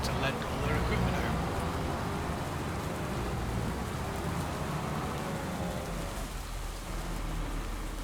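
Steady rain falls in the farming video game Farming Simulator 25, a constant dense patter that stays even and fairly close throughout, with a faint low rumble underneath and no clear speech.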